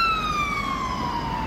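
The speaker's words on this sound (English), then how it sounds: "It's an ambulance." An ambulance siren wails past on a street, a loud, steady tone falling slowly in pitch as it moves by, heard alone with road noise beneath.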